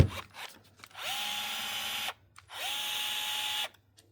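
A battery-powered rivet tool with a 4 amp hour battery runs in two distinct bursts of about a second each, a steady high motor whine separated by a short pause, close and loud with no talking.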